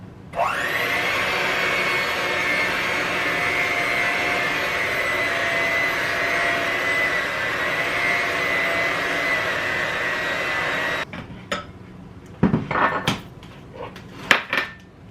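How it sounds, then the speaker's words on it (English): An electric stand mixer whirs steadily on low through red velvet cake batter for about eleven seconds, close and loud, then stops, followed by a few sharp clinks and knocks of utensils against the bowl. "Mix this on low one more time."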